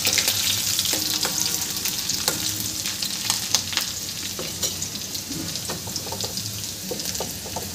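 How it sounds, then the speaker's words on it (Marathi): Curry leaves, garlic and green chilli sputter in hot oil with a constant dense sizzle, scattered pops and light spoon scrapes, fairly close and steady throughout with no voices. "कढीपत्ता, लसूण, मिरची आपण एका यानेच टाकलेली आहे."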